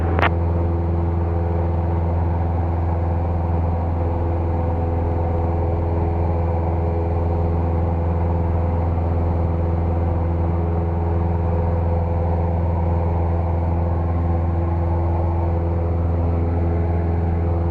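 A Cessna Skyhawk's piston engine runs at low power while the plane taxis to the runway, a steady, even droning hum with a stable tone that holds unchanged throughout.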